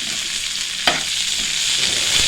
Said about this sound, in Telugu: ఈ ఉల్లిపాయ ఆయిల్ అనేది ఫ్రై చేయాలండి